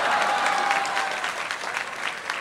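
Applause from a comedy show audience, a brisk mass of clapping, fairly loud and continuous for a couple of seconds with no talking over it.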